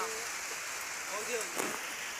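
Rain falls steadily around a small hut in rural Thai rice fields, a soft continuous hiss of drops on surfaces with a faint voice briefly in the background.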